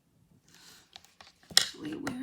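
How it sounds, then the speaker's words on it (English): A few short crisp snips of scissors cutting paper, close by and quiet, with faint rustling between them. "I'm going to cut these out with a pair of scissors"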